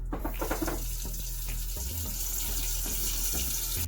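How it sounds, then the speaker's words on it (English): Water runs into a cooking pot from a tap, a steady continuous splashing stream that fills the short stretch alone. "Okay, we poured the water in the pot."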